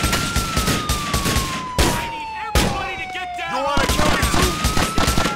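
Gunfire rings out in Grand Theft Auto: The Ballad of Gay Tony, sharp loud shotgun and rapid shots in irregular bursts, with a police siren wailing and someone talking over the action.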